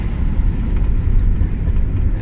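Ford Fiesta MK5 Zetec S with a 123 BHP engine and aftermarket exhaust, heard from inside as a steady, loud, low engine drone while cruising, with no voices.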